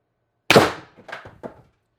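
A single sharp shot from an X-68 Stormtrooper build gun firing in a chronograph test, a loud close crack followed by two quieter mechanical clicks or thunks as the mechanism cycles.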